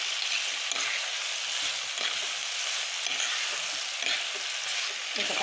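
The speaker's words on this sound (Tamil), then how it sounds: "இப்போ கத்திரிக்காய்லாம் நல்லா வந்து வதங்கி வரட்டும்" Eggplant pieces frying and being sautéed in a pan for a Tamil-style brinjal curry, giving a steady, loud, close sizzle with occasional stirring scrapes throughout and no talking.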